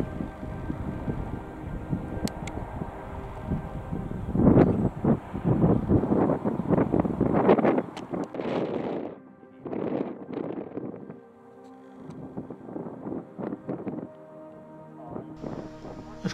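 Wind buffeting a microphone on the coast at Findhorn Bay in Scotland, loud gusty rumbling bursts that rise and fall irregularly, easing toward the end.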